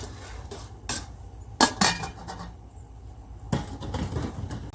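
A utensil scrapes and clinks against a bowl while shrimp, mushroom, potato and garlic are mixed, producing a few sharp metallic knocks over a soft steady rustle.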